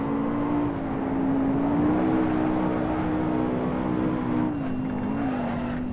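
Race car engine in Assetto Corsa with the throttle fed in gently, a loud steady drone that rises and dips slightly in pitch, heard alone with no talking.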